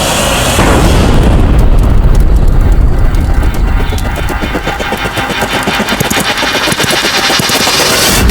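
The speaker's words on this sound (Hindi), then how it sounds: "ये कैसा धमाका?" A loud, sustained blast roars in a historical drama, with a deep rumble followed by crackling debris and rapid popping bursts that continue over several seconds with no voices.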